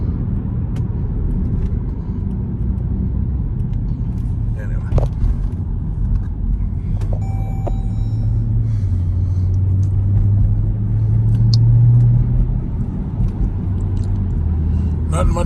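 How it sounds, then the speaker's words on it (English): Road traffic rumbles around a moving car, with a low, steady engine drone that swells in the middle, occasional knocks and clicks, and someone talking over it. "All this goddamn traffic."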